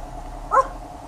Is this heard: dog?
yes